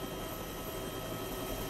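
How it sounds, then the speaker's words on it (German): A helicopter flies in the video game DayZ, a faint, distant, steady rotor drone that continues evenly throughout, with no talking. "Oh, da kommt noch ein Hubschrauber."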